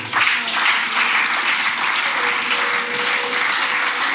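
A church congregation at an evening worship service applauds in praise, a dense, loud, sustained clapping that fills the room, with a few voices mixed in.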